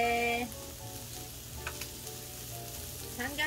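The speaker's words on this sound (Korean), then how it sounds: "삼겹살 노릇노릇" Samgyeopsal pork belly frying in a pan gives a continuous close sizzle and crackle, with faint tonal sounds and brief stirring noises mixed in.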